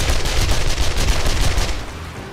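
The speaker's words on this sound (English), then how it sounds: "Hosing him with the SMG" Submachine gun fire in the 7 Days to Die console version during a zombie horde night, a loud continuous burst of rapid shots filling the whole moment without talk.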